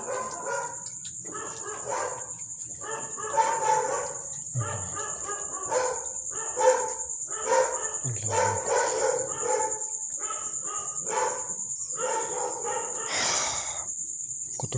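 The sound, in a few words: many dogs barking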